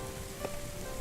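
Steady rain patters on a hard surface, quiet and even throughout, with a single faint drip standing out briefly and no voices.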